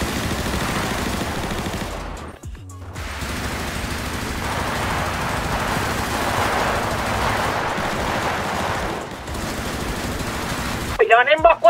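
Automatic AK-47 gunfire rattles in a video game drive-by gang shootout, long sustained bursts with a short break, loud and close, while players talk over it.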